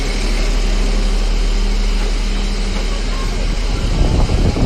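A train on a street railway runs with a steady, loud engine drone and low rumble throughout, growing rougher and louder near the end, with voices audible in the background.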